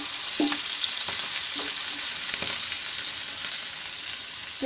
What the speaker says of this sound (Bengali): তেলটা গরম থাকাতে অল্প সময়ে ভাজাটা হয়ে গেছে মশলাটা